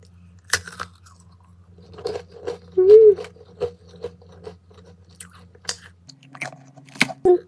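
Crunchy diet snacks such as protein chips, cookies and yakgwa crackle between the teeth in a run of close, sharp crunches and chewing, separated by short pauses and a brief hum.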